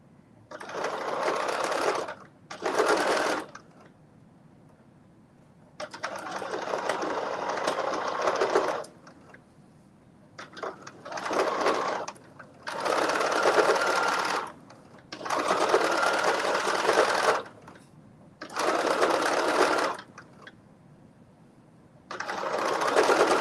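A sewing machine runs in repeated bursts of steady whirring stitching, separated by short pauses, close and fairly loud.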